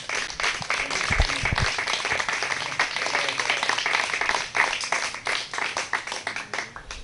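A congregation applauds at a religious service, a dense sustained round of clapping that fills the room steadily for several seconds.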